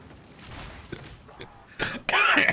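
A few short throat-clearing coughs from a man, building from small rasps to two louder harsh bursts near the end, close to the microphone and mixed with his speech.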